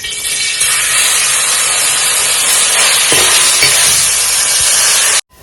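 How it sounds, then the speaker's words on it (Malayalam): Rice ada hits hot ghee in a pan, a loud close steady sizzle and hiss lasting several seconds before cutting off abruptly. "ഊറ്റി വെച്ച അട ഇതിലേക്ക് ഇടാൻ പോകും"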